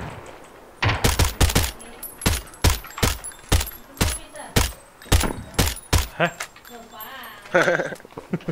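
Gunfire in PUBG: a dozen or so loud, sharp shots fired in quick rhythmic bursts, close by, with voices talking between and over them.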